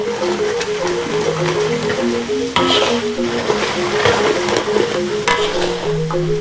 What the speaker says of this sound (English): I mix it first. Mix well.